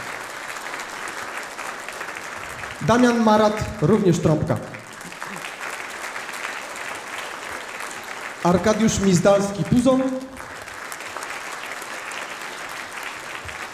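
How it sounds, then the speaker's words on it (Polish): Continuous audience applause for the band members at a concert, steady and moderately loud across the whole stretch, while a man twice announces names over it through a microphone. "Dużo brawa."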